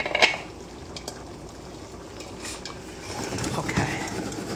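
Chicken and mushrooms simmer in a covered pot, giving a soft continuous bubbling that thickens toward the end, plus a light clink of a lid or utensil near the start.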